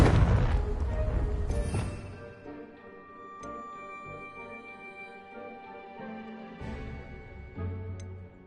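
A Confringo fire spell blasts in Hogwarts Legacy gameplay, opening with a loud booming burst that rumbles and decays over about two seconds, then gives way to a softer tonal game score with a few small impacts.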